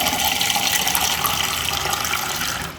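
A water tap runs steadily at full flow, a loud, dense rush with a splashing hiss. It holds unbroken for nearly three seconds and eases off slightly at the end.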